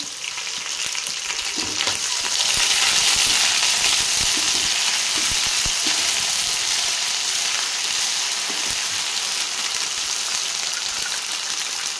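Ginger garlic paste and coriander frying in a pan for egg masala gravy, a loud, steady sizzle with light stirring scrapes throughout, close and continuous.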